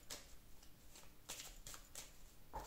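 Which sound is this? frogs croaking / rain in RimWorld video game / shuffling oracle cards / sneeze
shuffling oracle cards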